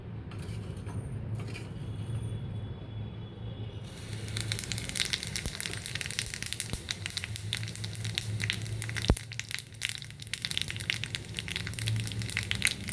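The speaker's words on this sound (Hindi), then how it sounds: "तड़का पैन में मैंने डाल दिया है 1 टेबलस्पून घी। इसके अंदर मैं डाल दूँगी जीरा" Cumin seeds dropped into a tablespoon of hot ghee in a small tempering pan, a close, steady crackling sizzle that starts a few seconds in and keeps popping without any talk.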